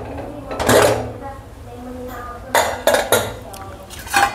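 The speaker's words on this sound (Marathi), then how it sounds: "आता झाकण खोलते" A pressure cooker lid is opened after cooking rice for kheer, making several metallic clanks and clinks of pot and lid in separate bursts over a low background hum.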